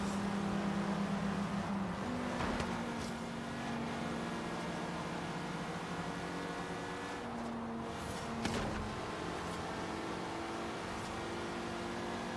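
Audi RS2 Avant engine in the racing game Forza Horizon 3, a steady droning hum that shifts pitch a few times as the car is driven, with no voices.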